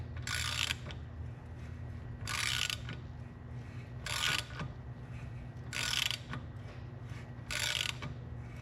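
A fitting is threaded into an LS water pump, with five evenly spaced bursts of raspy ratcheting about two seconds apart over a constant low hum, close by.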